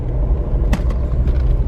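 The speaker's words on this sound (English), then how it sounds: "Car coming, right, with a narrow." A car passes close by on a narrow road, a short loud engine rumble and tyre noise swelling briefly and fading.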